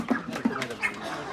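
At a busy market, a chicken on sale gives a few short, soft clucks close by over a murmur of background chatter.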